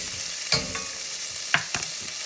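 Garlic and ginger frying in hot oil give a soft, steady sizzle, punctuated by a few sharp scraping clicks of stirring in the pan.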